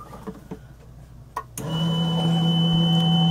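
A die cutting machine runs a plate through, starting with a few small clicks and handling taps, then a steady motorized hum with a sustained tonal drone.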